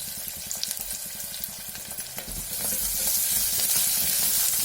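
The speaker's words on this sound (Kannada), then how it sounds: "ಗೋಲ್ಡನ್ ಬ್ರೌನ್ ಬರಬೇಕು, ಅಷ್ಟರ ತನಕ ಫ್ರೈ ಮಾಡಬೇಕು." Onions, mustard seeds and curry leaves fry in hot oil, giving a close, continuous crackling sizzle broken by a few stirring scrapes. The sizzle grows steadier and louder toward the end, and no one speaks.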